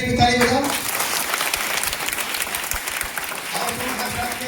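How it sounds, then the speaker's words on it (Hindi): Children clapping together at a gathering with a former CRPF DIG in a Jharkhand village: brisk, dense applause from a group, loud and continuous throughout, with a voice briefly heard at the start. "चलो इसके लिए भी ताली बजाओ"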